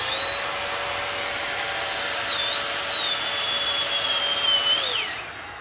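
A Milwaukee M12 spot blower runs hard at its blowing nozzle, giving a loud, steady airy roar with a high whine that holds for about five seconds, then winds down at the end.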